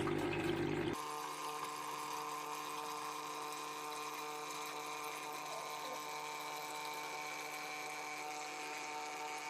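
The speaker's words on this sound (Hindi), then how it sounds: "और इसी के साथ हमारी मोटर स्टार्ट हो गई। ये देखिए फिर से पानी आ रहा है" An electric motor on a DIY automatic water-tank pump switches on abruptly and runs with a steady, tonal mechanical hum as water flows into the tank, continuing unbroken with no talking.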